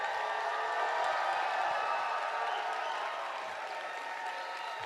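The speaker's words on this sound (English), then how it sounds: "I want you to give Mr. Robert Palmer the loudest round of applause" A large standing audience gives sustained, dense applause for Robert Palmer at a real estate brokerage event, a steady roar of many hands clapping at once with crowd noise mixed in, holding evenly throughout.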